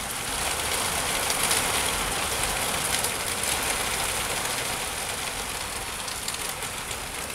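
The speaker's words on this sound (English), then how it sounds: "The rain is just hammering down now." Steady, dense roar of heavy rain pouring down, a constant broadband wash with no pauses, no voices, and a low rumble underneath.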